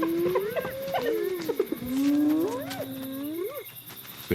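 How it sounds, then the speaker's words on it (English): A leopard growls to hold off a mob of other predators at night, with strained, moaning tonal snarls rising and falling over several seconds, fairly close and alone. "Her growl is stronger than she is. It's just enough to keep the mob at bay."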